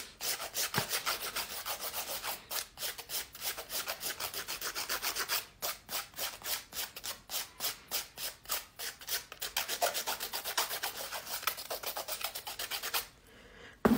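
Fingernails are filed with a nail file in quick, rhythmic back-and-forth rasping strokes, close and continuous with brief pauses, ending abruptly, no talk.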